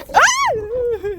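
A single dog whines close by, a rising yelp that slides into a long, wavering whimper.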